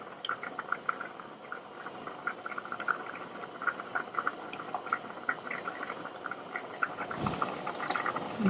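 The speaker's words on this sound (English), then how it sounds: "I'm just looking for bubbles and then just dropping them all in." Chicken broth bubbles steadily in a pot as dumplings are dropped in, giving a soft, continuous popping simmer with a faint splash and clatter near the end.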